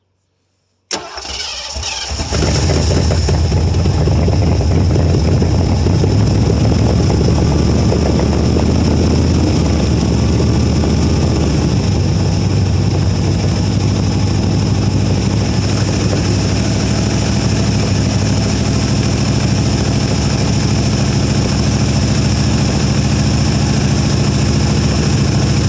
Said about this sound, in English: All right, crank her back up. Give her some throttle.